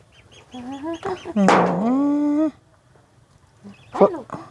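Loud, nasal quacking calls from ducks, a few drawn-out honks in a row, then a short burst of squawks after a pause, close by.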